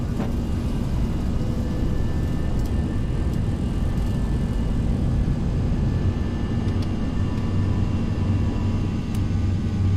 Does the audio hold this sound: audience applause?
no